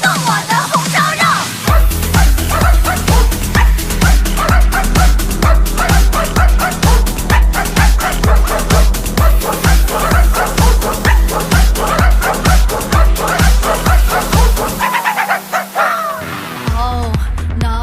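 Dog barks worked into a Mandarin pop song, repeated yips and bow-wows riding a steady, loud pulsing beat and dense backing music almost all the way through, dropping out briefly near the end.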